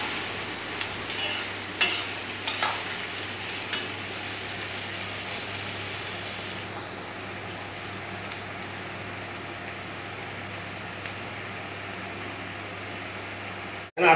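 Mutton curry with green chillies being stirred in a pot, a steady frying sizzle with a few scraping spoon strokes early on, then continuous hiss to the end, no talk.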